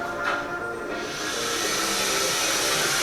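A toy vacuum cleaner runs with a loud, steady whooshing hiss that grows fuller after the first second and then holds constant.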